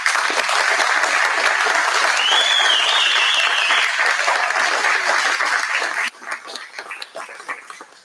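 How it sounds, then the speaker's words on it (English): An audience at a partnership announcement for a new EMS station and healthcare clinic breaks into sustained loud applause with a whoop, then the clapping thins and fades out. "to give everyone a round of applause"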